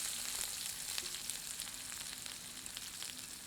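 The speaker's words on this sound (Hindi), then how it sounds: "इसमें काट कर रखी हुई प्याज सम्मिलित करते हैं।" Chopped onion frying in a couple of teaspoons of hot oil in a kadhai, a quiet, even sizzle with faint crackles and light stirring ticks, close by and without any speech.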